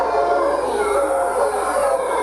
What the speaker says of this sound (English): Howler monkey.